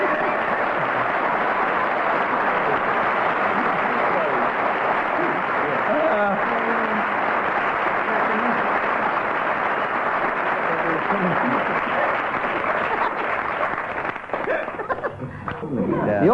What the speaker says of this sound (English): The audience gave Barry and Graham there no less than 17 seconds of applause, plus a few indiscriminate shouts.